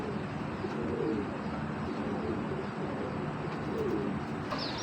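Giribaz pigeons coo softly over and over in a pigeon farm, a low repeated burbling against steady background hiss.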